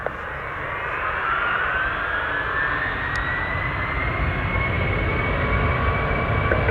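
A jet airliner roars steadily on its takeoff run at Orlando International Airport, a loud, continuous engine rumble with a rising whine heard from close by.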